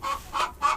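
Hens cluck in a mobile chicken coop, three short, close clucks spaced evenly apart, with quiet gaps between them and no talking.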